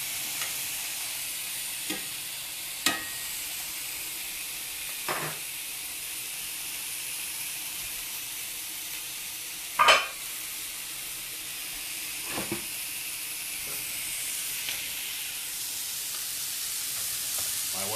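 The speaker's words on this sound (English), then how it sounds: "Give those potatoes a little stir." Potatoes are stirred in a pan alongside thin-cut pork chops frying, a soft steady sizzle with a few sharp scraping and clacking knocks of the utensil at irregular intervals, fairly quiet and without talk.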